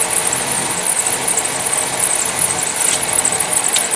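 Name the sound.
vacuum suction from the supply hose on a running car engine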